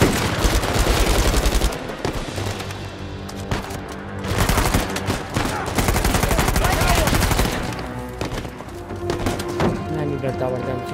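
Rapid automatic gunfire crackles through an Uncharted 4 firefight in dense, loud bursts with brief lulls between volleys, while someone speaks over the shooting.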